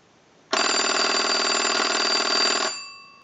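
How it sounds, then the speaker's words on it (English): A European rotary desk telephone, under repair, rings its bell as a test analyzer triggers a ring cycle: one loud, continuous metallic ring of about two seconds, close by, then a brief fading ring-out with no talk. "So we want to ring the unit, and we'll ring it with the analyzer"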